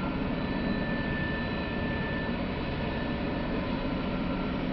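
A train locomotive hauling three units with a single engine, heard as a steady, loud, broadband engine roar with a faint tonal whine, unbroken throughout.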